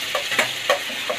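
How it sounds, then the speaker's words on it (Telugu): Chicken sizzles and fries in a pan while being stirred, with soft scraping strokes over a steady close-up sizzle. "లైట్గా ఇలా ఫ్రై చేస్తూ ఉండాలి దీన్ని కూడా."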